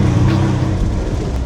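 Loud, steady road and engine rumble from a slammed, lowered turbo V12 Mercedes being driven, the tires rubbing against the bodywork blended into a continuous broadband drone with no clear separate scrapes.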